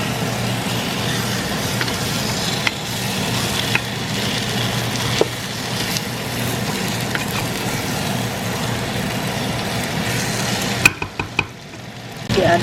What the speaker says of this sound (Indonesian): Diaduk kayak gini nih, udah diaduk, burem ya, udah aku aduk-aduk